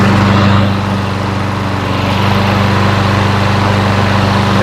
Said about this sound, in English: This is the smoothest running little engine that I've heard in a while.